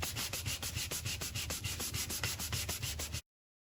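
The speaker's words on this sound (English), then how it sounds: "We want to use a finer sandpaper now, wet." Fine-grit sandpaper worked wet over the paint on the front end of a 1985 C4 Corvette, making quick, steady back-and-forth scratching strokes in a close, continuous rhythm.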